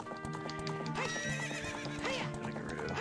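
A horse in the Zelda Ocarina of Time video game neighs loudly while its hooves clip-clop at a gallop, set against steady game music.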